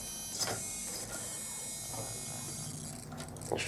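An electric front steering motor on a project vehicle runs with a steady mechanical whine and buzz, accompanied by faint ticks and clicks, continuous and fairly quiet throughout.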